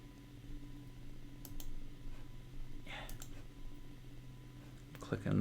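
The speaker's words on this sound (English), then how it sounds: "clicking the wrong stuff over and over again." A few sharp computer mouse clicks come while someone plays the Harley Quinn: Mad Love game, scattered over a steady low hum with faint voice-like sound in the background.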